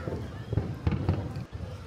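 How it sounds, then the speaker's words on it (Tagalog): Fireworks burst over Gardens by the Bay in Singapore, a few muffled booms and crackles at a distance mixed with crowd noise and nearby voices. "Tapos may fireworks sila."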